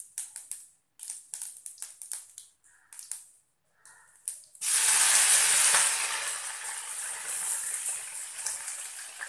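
Mustard seeds, fenugreek, cumin and curry leaves tempering in hot sesame oil for karamani kuzhambu: close, scattered popping crackles at first, then a loud, sustained hissing sizzle that slowly eases off.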